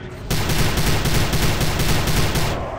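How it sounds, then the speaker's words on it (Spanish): In the video game Prey, an enemy fires rockets in a rapid rattling barrage of repeated blasts, loud and continuous for a few seconds before cutting off. "está disparando cohetes"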